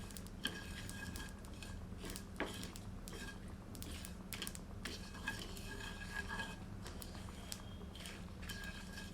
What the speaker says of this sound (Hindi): 2 से 3 टेबलस्पून ग्रेट करा हुआ नारियल डालते हैं और इसे भी सामग्री के साथ भूनते हैं